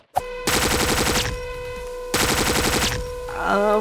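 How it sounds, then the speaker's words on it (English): Automated turrets in a video game fire two loud, rapid bursts of machine-gun-style shots, each lasting under a second, with a short gap between them and an electronic tone rising just after. "Damn turrets!"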